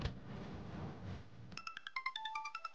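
After a stretch of hissy background noise, a mobile phone ringtone starts up and plays a quick, bright melody of pulsing electronic notes, clear and close.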